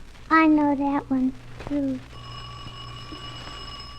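In an old-time radio drama, a voice speaks briefly, then a bell rings with a sustained, steady metallic tone that carries on clearly to the end.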